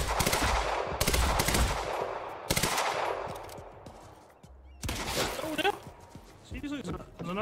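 Sniper shots and heavy gunfire in the Quantum Break video game: several loud sharp bursts early on, a quieter tail, then renewed shots, while someone talks excitedly over the action.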